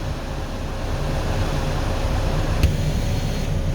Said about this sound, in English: Now inside the car, when you put the heaters on,